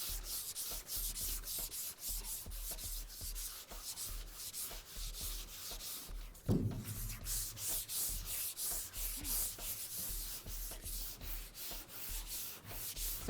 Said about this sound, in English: when you sand, what you'll see happen is all the areas that are high will sand off really nicely.